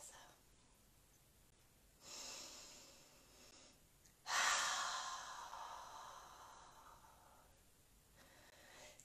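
Slow, deep belly breaths during a grounding breathing exercise: two long, airy exhales, the second stronger and trailing off gradually, heard up close over quiet room tone.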